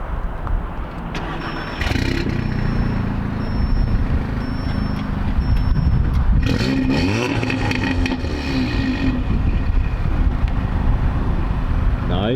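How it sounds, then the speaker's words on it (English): Tuned Audi S3 starting up: a starter whir, then the engine catches with a loud burst around the middle and settles into a steady, close idle rumble. "we're gonna get a startup of the S3 right now."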